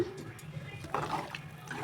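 Water poured into a pot of rice that was first fried briefly, for mint rice bath, making a steady splashing rush that swells louder partway through, close by.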